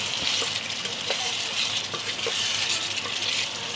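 Chicken in a garam masala paste being mixed in a frying pan, giving a steady, close sizzle with soft scraping stir strokes throughout and no talking.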